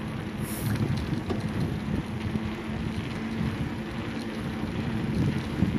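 Strong wind buffets the microphone outdoors, a steady low rumbling roar that persists throughout with gusty fluctuations and no speech.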